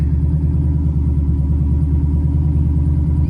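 A rebuilt twin-turbo 5.7 engine idles steadily, a low, even rumble with a faint rhythmic pulse, loud and close, with no talk over it.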